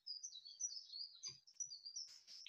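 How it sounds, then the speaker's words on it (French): A small bird sings outdoors, a continuous run of high chirps and trills lasting throughout, fairly close and clear with no talking over it. "il y a un petit oiseau qui chante"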